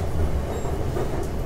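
A BTS Skytrain rolls into Siam station in Bangkok, a loud, steady rumble of an elevated rail car with faint wheel clatter and a brief high squeal, no talking.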